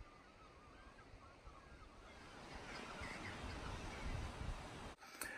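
Waves washing into a rocky coastal gully beneath a castle corner, a steady broad wash of surf with wind, swelling somewhat louder midway, fairly distant and faint, no voices.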